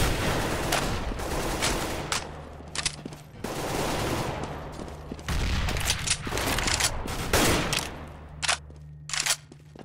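Counter-Strike gunfire from an AK-47 and a FAMAS on the Nuke map, with dense bursts of automatic shots in quick succession, loud and close, broken by brief pauses.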